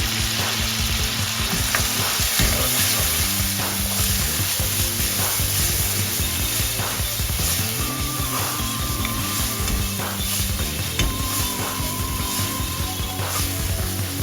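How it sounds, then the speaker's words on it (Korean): Pork stir-fries with minced ginger, garlic and mirin in a hot pan for Chapagetti-style jjajangmyeon, giving a loud, continuous crackling sizzle with occasional scraping from stirring. "돼지고기 겉면이 어느 정도 익었다면 다진 생강, 다진 마늘, 맛술 한 큰술을 넣고 1분만 볶아주다가"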